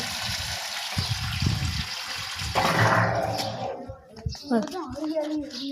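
Water pours from an opened, full water tank, a steady splashing gush that grows louder and brighter partway through, with people talking over it.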